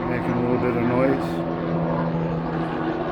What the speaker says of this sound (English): there goes a helicopter over. You can hear that.